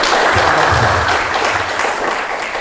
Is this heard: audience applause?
yes